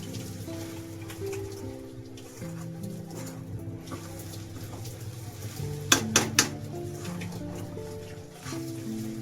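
Soybean, okra and mixed vegetables being stirred in a pan for a veg keema dosa filling, a soft scraping sizzle under a low hum, with three sharp metallic clinks near the middle.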